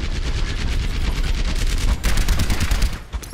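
Rapid missile fire in the Overwatch video game during a competitive match, a dense stream of loud, evenly spaced blasts running continuously and swelling near the end, with no talk over it.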